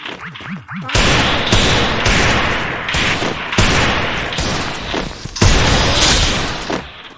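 Gunfire in a shooting video game, ending in a headshot, comes as loud rapid bursts of automatic shots separated by short pauses, with sharp impacts rising above the dense firing.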